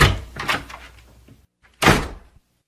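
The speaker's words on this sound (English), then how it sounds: "The door of the office opened, and Belinda came in." An office door opening, a loud close thump with rattling and knocking followed after a short silence by a second heavy bang, alone without voices.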